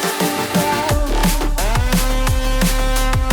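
Fast drum and bass music with a punchy, plucky bass line bouncing under quick, busy drum hits, loud and continuous throughout.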